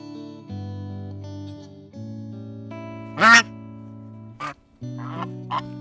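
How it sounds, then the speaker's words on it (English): A goose calls with a few loud, harsh honks and quacking bursts over a steady music bed, the calls brief and spaced out across the stretch. "Next animal is goose."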